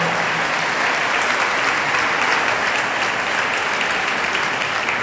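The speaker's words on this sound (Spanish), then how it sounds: "Dense ese fuerte aplauso." Steady, dense applause from a charity event audience fills the whole stretch, a continuous broad clatter of many hands at even loudness with no talk over it.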